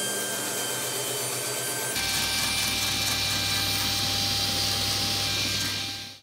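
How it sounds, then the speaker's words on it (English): A power saw cuts through wooden table-leg stock, a continuous loud whir that shifts into a harsher, denser rasp partway through and then winds down at the end. "Next, I trimmed the ends off and cut them the final length."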